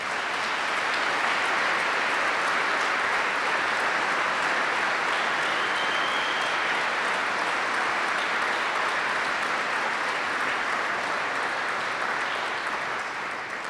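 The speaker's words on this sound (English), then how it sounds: "Let's have a big round of applause." An audience at a military wing commanders' event applauding, a loud sustained wash of many hands clapping that holds steady for over ten seconds before easing slightly at the end.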